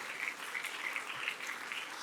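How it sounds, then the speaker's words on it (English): A hall audience claps steadily for first-prize winners at a National Science Day science exhibition, a faint, even patter of many hands with no talk. "Let us give a big round of applause for the first prize winners."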